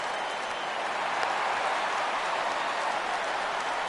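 Rain falls steadily at a baseball game, a dense, even hiss that holds constant throughout with no talk over it.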